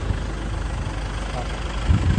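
A low, steady boat engine idle rumbles throughout, with a slight swell near the end and some faint background voice-like noise.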